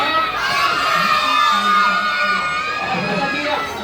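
A crowd of children shouts and cheers together loudly in reply to a host at an event, a sustained burst of excited young voices with adult talk around it.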